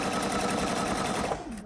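Sewing machine running steadily while stitching a Miyako bag, a close, loud, even mechanical whir with a rapid rhythmic needle pulse that eases off near the end.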